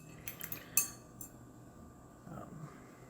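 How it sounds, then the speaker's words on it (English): A stirring stick mixes settled metallic hobby paint in a small pot, giving a few light, close metallic clinks and taps in quick succession, then softer scraping in a quiet room. "I use a stirring stick so that I don't get paint in my brush ferrules."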